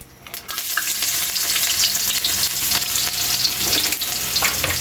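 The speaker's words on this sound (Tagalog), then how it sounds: "Kaylee, mainit yung mantika. Ilagay na natin yung bawang." Garlic dropped into hot oil for beef adobo bursts into a loud, close, steady sizzle with stirring scrapes, continuous and unbroken by any voice.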